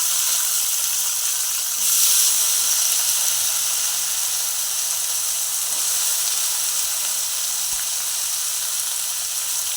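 Chopped long beans and potato frying in a hot wok give off a constant, even sizzling hiss that swells briefly near the start and then holds steady.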